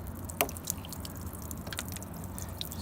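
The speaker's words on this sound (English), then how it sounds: "look at all that water that just drained out of my door" Water trapped inside a car door trickles out through the drain hole, giving faint scattered drips and a light liquid patter against a low steady background.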